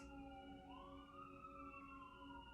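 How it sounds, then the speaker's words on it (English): Emergency vehicle sirens wail in the distance, their rising and falling tones sweeping past faintly over a low steady hum, with no voices. "as these sirens go"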